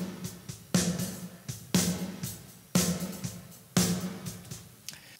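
Drums processed through the Sound Toys Little Plate plugin, an EMT-140 style plate reverb: four evenly spaced loud hits, each followed by a bright, smooth decaying tail, with softer hits between them, no voices.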